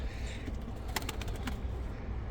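Pigeons coo softly in a Turkish bird-keeping setting, low murmuring calls over steady background noise with a brief burst of wing flapping partway through.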